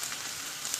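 Onions frying in a pan give a steady, quiet, broadband sizzle with faint crackles, heard alone without talk.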